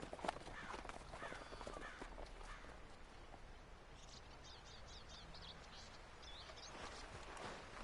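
Horse hooves clip-clop at a steady walking pace in Red Dead Redemption 2, faint and continuous, with birds chirping in the background.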